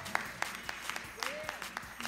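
A church congregation at a Sunday service claps in a steady rhythmic beat, sharp evenly spaced claps with a voice speaking faintly underneath.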